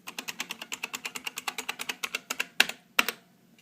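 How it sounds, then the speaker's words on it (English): Steady typing on a 1988 IBM Model M keyboard: rapid, evenly spaced clicky keystrokes recorded close, ending in a couple of louder, heavier key hits after a short pause. "Got a 1988 Model M keyboard plugged into it."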